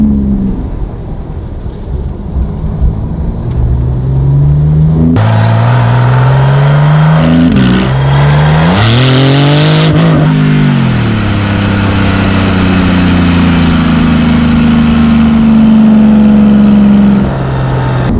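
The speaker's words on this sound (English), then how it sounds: "you don't get a lot of the crazy exhaust noise until you really crack the throttle when those valves open" A Porsche 911 991 GT2RS with an IPE exhaust drones loudly while driving, then rises in a rev and settles back to a steady, close engine roar with road noise.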